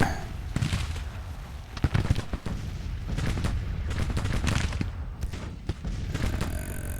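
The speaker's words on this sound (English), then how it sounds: "Let's put the artillery division on fire at will." Artillery division firing at will in Grand Tactician: The Civil War, a steady barrage of booming cannon shots and thuds over dense, continuous battle noise with no clear pauses.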